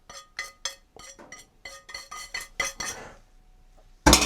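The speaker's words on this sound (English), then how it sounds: "I'm going to scrape off any of this excess food particles" Dishes being scraped clean of leftover food with a crevice brush, a run of clinking, scraping strokes in a steady rhythm that trails off, then one louder close scrape at the end.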